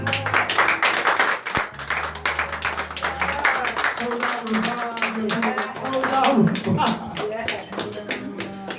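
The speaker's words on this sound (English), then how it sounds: "Give him a hand clap of praise." A church congregation claps hands in praise, sharp overlapping claps in a lively, somewhat rhythmic stream, with voices and a sustained musical tone running underneath.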